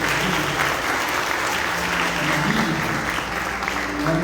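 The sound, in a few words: church congregation applause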